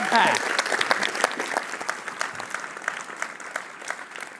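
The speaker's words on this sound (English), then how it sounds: "give Sarah a round of applause" An audience gives Sarah a round of applause at a talk, a burst of clapping that starts strong and gradually thins into scattered claps.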